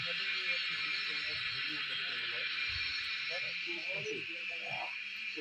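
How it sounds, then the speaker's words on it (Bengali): On a hillside near Dhulikhel, Nepal, on a misty morning, crickets and frogs keep up a steady, shrill insect drone throughout, with low murmuring voices underneath. "এই যে ব্যাং ট্যাং ঝিঝি পোকা।"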